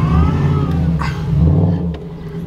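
Chrysler 300C pulling away under acceleration, a loud, steady engine roar with a low rumble that swells and fades slightly as the car leaves.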